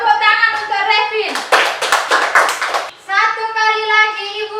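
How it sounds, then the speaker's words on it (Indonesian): Children clap in applause in a classroom lesson, a short burst of brisk clapping between stretches of a child singing or reciting, close and fairly loud. "Tepuk tangan untuk Revin."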